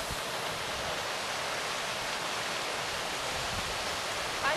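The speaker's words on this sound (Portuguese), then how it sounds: "vou pegar pra cachoeira ao fundo" Steady rushing roar of a waterfall heard in the background outdoors, a broad even hiss of falling water that stays constant and moderately loud throughout, with no talk over it.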